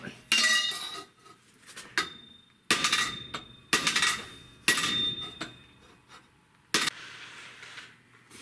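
Heavy hammer blows ring out on stainless steel, about six loud strikes spaced irregularly with clanging metallic overtones and short pauses between.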